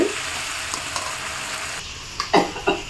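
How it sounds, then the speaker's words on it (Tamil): Onions, tomatoes, curry leaves and garlic sautéing in a pan for vatha kuzhambu, a steady soft sizzle with a few louder scraping stirs near the end. "நல்லா வெங்காயம் தக்காளி பெரிய வெங்காயம் சின்ன வெங்காயம் தக்காளி கருவேப்பிலை பூண்டு எல்லாத்தையும் சூப்பராக நல்லா வதக்கிட்டு"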